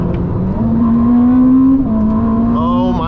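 Ferrari SF90 hybrid supercar accelerating hard on the road, a loud, steady engine drone rising in pitch, with a brief shift dip and a higher whine coming in at the end, heard from inside the cabin.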